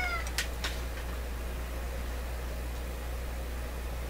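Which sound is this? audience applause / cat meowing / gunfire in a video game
cat meowing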